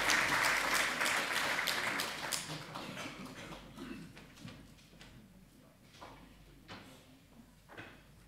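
Conference audience applause, loud and dense at first, then thinning and fading into scattered claps and room noise over several seconds.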